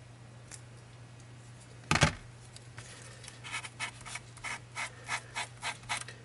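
Blade cutting a 2mm italic calligraphy pen nib: a sharp crunching snip, then a series of about eight short rhythmic scraping strokes, close and fairly quiet, with no speech.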